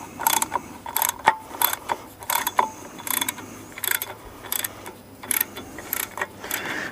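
A 5/8 wrench works a bolt loose on a Mercury 60hp outboard during an impeller replacement, giving a steady run of close, clicking ratchet strokes in short repeated bursts.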